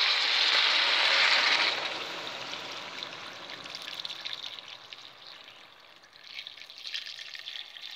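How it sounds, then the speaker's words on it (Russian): Water pours into a pot in a steady hissing stream, loudest at the start, then continues more softly with splashing and trickling as the level rises. "наливаем наши водички"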